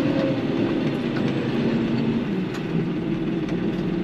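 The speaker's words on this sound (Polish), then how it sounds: "Oczywiście słychać ten dźwięk pracy silnika trzycylindrowego, ale też bardzo dobrze reaguje on na przyspieszenie," A New Holland T4.75S tractor's three-cylinder engine runs and accelerates with a loud, steady, rumbling drone and some rattling clatter, close by, with no speech over it.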